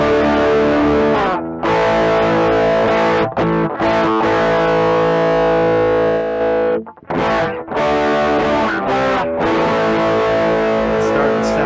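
Electric guitar played through a Wannabee distortion pedal, thick saturated chords and sustained notes with a couple of brief breaks, loud and close.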